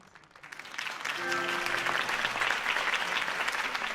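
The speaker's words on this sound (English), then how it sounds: "could have heard that applause" Crowd applause in the video game Batman The Telltale Series, for Harvey Dent's campaign speech, swelling from a few claps into a steady, full ovation that stays loud to the end.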